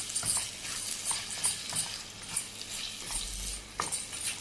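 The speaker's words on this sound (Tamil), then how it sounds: "இதையும் நல்லா சேர்த்து வதக்கிக்கலாம்" Soft rhythmic scraping and stirring in a pan, with a light sizzle as chopped tomatoes are sautéed, repeating every half second or so.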